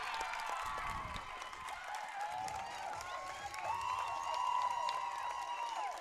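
A crowd at a women's rugby match cheers and claps after a try, a sustained wash of applause and whoops heard from a distance, fairly quiet overall.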